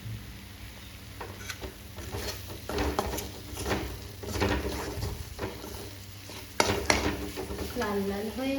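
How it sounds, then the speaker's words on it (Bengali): Onion, garlic and ginger paste frying in hot oil in a pan, a soft steady sizzle broken by the scrape and clatter of a spoon stirring against the metal, with a voice speaking briefly. "এখন তেলের উপরে পেঁয়াজ রসুন দিয়ে কষিয়ে নেব।"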